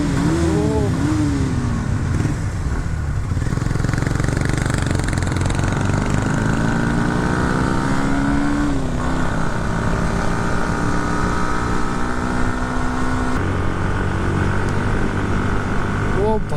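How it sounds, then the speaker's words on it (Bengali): A superbike's engine drones steadily through a road tunnel on a long ride, the loud sustained tone rising and falling with throttle and echoing, with speech over it. "সুপার বাইক গেলে এখানে আওয়াজটাই আলাদা"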